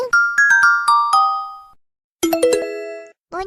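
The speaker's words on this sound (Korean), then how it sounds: "문자 왔는데." Cute chiming text-message notification ringtone: two bright bursts of rapid bell-like tones separated by a brief pause, then a short third chime starting, loud and close with no voices.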